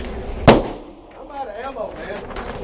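A single sharp gunshot at an outdoor gun range, loud and close, followed by people talking nearby.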